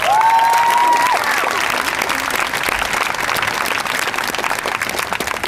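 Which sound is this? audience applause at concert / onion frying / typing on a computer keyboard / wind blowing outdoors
audience applause at concert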